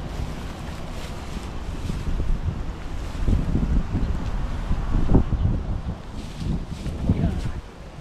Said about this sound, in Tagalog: Hangin. Yung hangin.